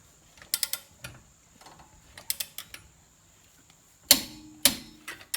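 A torque wrench tightens wheel lug nuts, giving scattered metallic clicks and ratcheting bursts, with two sharper loud clacks near the end, up close and with no speech.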